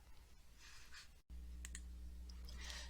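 A single quiet mouse click on the Apply button in Google Docs, a brief crisp tick over faint room hiss, with a few more light clicks after it.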